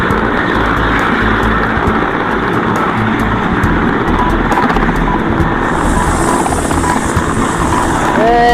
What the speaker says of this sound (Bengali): হেলিকপ্টার উঠতে শুরু করেছে।